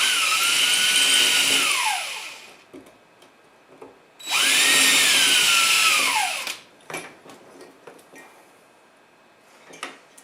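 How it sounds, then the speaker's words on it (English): Two loud bursts of a power drill grinding the head off a metal rivet, each whining for about two seconds, separated by clinks and small rattles of loose parts. "So all I'm doing is drilling the head off of the rivet"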